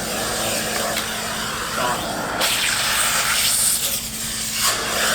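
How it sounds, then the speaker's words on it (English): An upholstery extraction vacuum tool pulls shampoo, pre-spray and rinse water out of furniture fabric, making a steady, loud suction hiss and roar throughout while someone talks over it. "you're sucking the shampoo, you're sucking the pre-spray, and you're sucking the extra water that you put in there"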